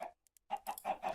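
Minecraft chickens give a few short, soft clucks in quick irregular bursts after a brief pause, heard on their own.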